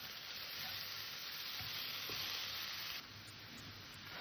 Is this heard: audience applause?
no